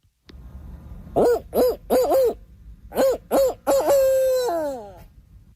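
A person imitates a barred owl, giving a loud, close series of rhythmic hooting calls that ends in a drawn-out, descending hoot.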